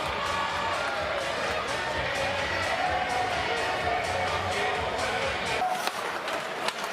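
Belfast Giants ice hockey fans stand and applaud in an arena, a dense, steady wash of crowd cheering and clapping that fills the whole stretch before briefly thinning at the end.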